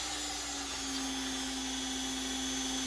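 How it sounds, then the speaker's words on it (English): An X-Carve CNC router spindle fitted with a 1/16 upcut bit spins up and runs at steady speed, a constant high whine with a low hum, close and moderately loud. "we're going to turn on the spindle"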